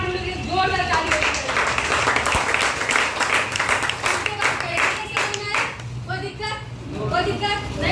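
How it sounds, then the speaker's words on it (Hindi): An audience at a business seminar claps loudly and continuously, many hands beating in a dense, slightly rhythmic wash, with a voice speaking over it near the end. "हम चाहते हैं स्मार्ट वैल्यू के जोरदार ताली बजाएं।"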